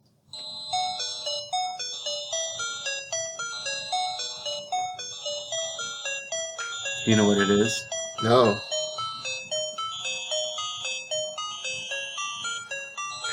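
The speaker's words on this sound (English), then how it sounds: "It's the cabin music from Friday the 13th." Repeating 8-bit chiptune cabin music from the Friday the 13th NES video game loops steadily throughout, with a brief burst of speech near the middle over the melody.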